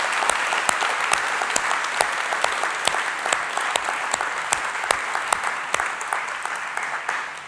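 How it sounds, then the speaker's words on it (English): Conference audience at a UX New Zealand event giving a round of applause for the organisers, sustained clapping from many hands with crisp individual claps standing out, steady and fairly loud throughout. "I want to make sure we do a quick round of applause for Andrew and Matt and Alan and everyone who's involved here"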